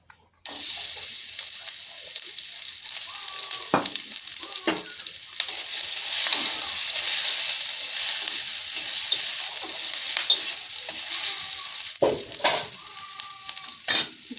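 Whole garlic cloves, chili and onion crackle in hot oil for ripe pointed gourd, a steady close sizzle with sharp spits and utensil clinks.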